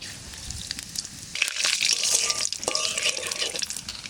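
Nigella seeds sizzling in hot mustard oil for tempering, a bright hiss that swells suddenly partway through with crackling and stirring scrapes, close and alone.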